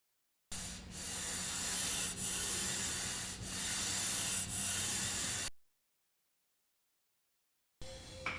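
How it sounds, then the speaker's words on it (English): Cable and pulley friction from a RitFit M1 Pro plate-loaded cable system: a steady rubbing, sanding-like hiss about five seconds long, with faint periodic swells, then silence before a brief low hum at the end. "There is a little more friction in this system with the plate loaded because I can hear it."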